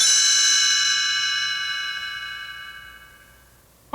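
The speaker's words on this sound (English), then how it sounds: "you'll know it's time to turn the page whenever you hear the chimes ring like this" A bright page-turn chime from a 1986 talking Mickey Mouse read-along storybook, a single ringing bell-like strike with several clear overtones that slowly decays over a few seconds, alone without talk.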